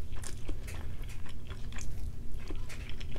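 Steady close-up chewing and biting of a breakfast of eggs and sausage with ketchup, wet crunchy mouth sounds repeating in a quick irregular rhythm with no talking.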